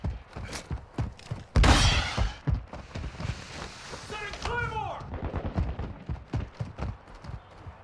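Rapid single-fire gunshots crack close by in the video game Modern Warfare 2022, with a louder blast near the start and scattered impacts and effects, while a player talks in between the shots.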